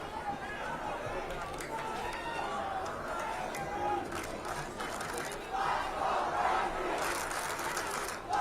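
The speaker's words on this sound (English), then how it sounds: "Braintree crowd trying to get their team into this game" Home crowd at a Braintree varsity high school football game against Hingham, a steady roar of shouting and cheering voices from the stands that swells louder near the end.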